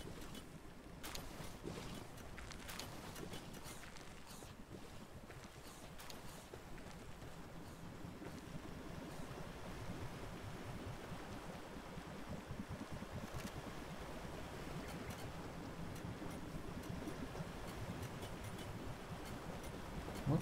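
A steady, even hum from a generator in the video game Palworld runs throughout, filling the background at constant loudness with faint splashy, watery-sounding noise over it.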